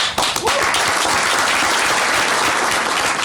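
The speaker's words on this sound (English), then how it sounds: "The clapping drives me crazy. It's so close to the microphone." Close-miked clapping from a political rally audience, loud and dense, a steady wash of many hands held right up against the microphone for the whole stretch.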